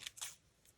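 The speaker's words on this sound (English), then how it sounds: "I'm just going to use this black cardstock. I'm going to cut it" Scissors snipping black cardstock into a wavy shape for handmade ephemera, two quick close cuts followed by a fainter third snip in a quiet room.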